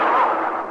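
A single heavy gunshot in an old Western radio drama, a loud booming report that rings out and fades, heard alone without speech.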